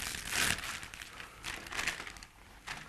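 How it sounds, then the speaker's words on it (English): Plastic florist wrapping crinkles and crackles as carnations are unwrapped, coming in a few soft bursts up close with quiet gaps between. "It's carnation, so you have to obviously unwrap them."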